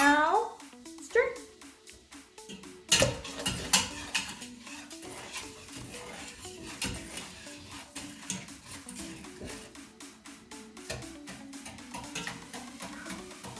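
A toddler stirs turkey brine in a pot, the spoon scraping and clinking against the sides in irregular bursts, close by, with an adult's voice talking over it.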